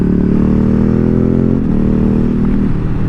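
Ducati Streetfighter 848 engine with a slipping clutch runs loud and close, a steady droning hum that dips briefly midway and then holds, with light mechanical clatter underneath.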